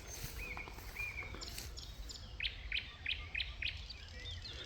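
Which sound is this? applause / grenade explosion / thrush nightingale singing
thrush nightingale singing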